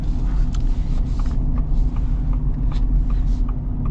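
A gas-engine Ford Super Duty pickup puts out a deep, steady rumble, heard continuously and fairly loud from close by, with no speech over it.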